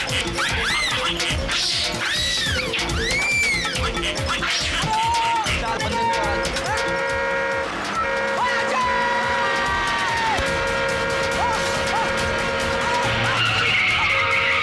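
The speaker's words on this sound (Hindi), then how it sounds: "अबे तूने 2 पहियों पर गाड़ी कैसे चलाई?" A car driven on two wheels in an action film chase, with long, loud tire squeals and skidding layered over engine roar and dramatic music, holding steadily throughout.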